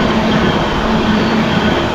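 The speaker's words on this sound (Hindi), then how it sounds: "ये है मुरादाबाद का रेलवे स्टेशन" A train at Moradabad railway station, a loud, continuous rumble of rolling rail cars with a steady low hum and no pauses.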